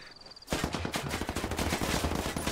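AK assault rifle fire in the video game Ghost Recon Wildlands, Ghost War mode, erupts after a short quiet moment into a continuous rapid burst of loud, closely spaced shots.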